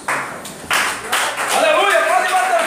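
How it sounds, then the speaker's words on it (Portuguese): A church congregation claps their hands in a fast, dense patter that swells in waves, with voices speaking and calling out over it. "bate palmas para Jesus."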